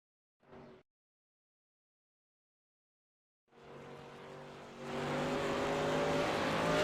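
Race trucks on an asphalt oval during a summer-season weekly racing night: after a brief early blip and silence, engine roar rises and swells louder, sustained and near by the end.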